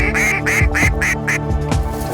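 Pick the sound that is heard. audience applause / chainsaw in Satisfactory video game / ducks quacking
ducks quacking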